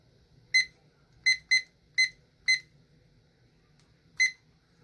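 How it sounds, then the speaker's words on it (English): A digital kitchen timer gives six short, bright beeps as its buttons are pressed to set it while candles are being made, spaced irregularly and heard clearly against a quiet room. "So I'm gonna put the timer for 10 minutes."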